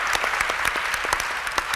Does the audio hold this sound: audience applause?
yes